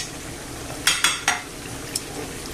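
Onion tossed into a frying pan with potatoes and garlic cloves: a quick cluster of three soft clattering hits against the pan, then a fainter fourth, over a quiet, steady sizzle.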